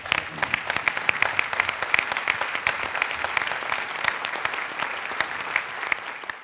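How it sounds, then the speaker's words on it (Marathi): Studio audience of the Marathi comedy show Maharashtrachi HasyaJatra giving a standing ovation, sustained crisp clapping from many hands that stays loud and even for over six seconds. "2 मिनटं उभं राहून त्यांच्यासाठी जोरदार टाळ्या वाजवूया"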